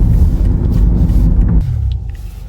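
BMW XM rolling along country roads, a loud, close low engine rumble with road noise that drops off sharply near the end, no voices.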